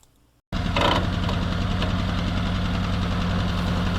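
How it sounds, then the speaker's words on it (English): A Jeep M38A1 engine with a rebuilt carburetor starts abruptly and settles into a fast, steady idle with a rhythmic knocking chug, loud and close, with no talking. "It's idling a little fast with the rebuilt carb"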